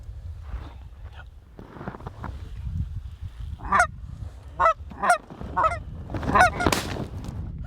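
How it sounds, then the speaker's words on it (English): A single goose flies over hunters and honks loudly several times in short, uneven bursts close overhead, over a low, windy rumble. "a single goose snuck in and flew right over top of us"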